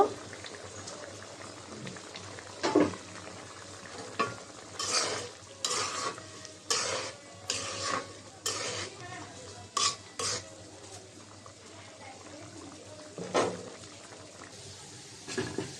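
Onion paste frying to brown for beef biryani, a soft bubbling sizzle under irregular bursts of a spoon scraping and stirring against the pot, fairly quiet and close.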